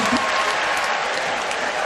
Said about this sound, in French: Applaudissez les djihadistes.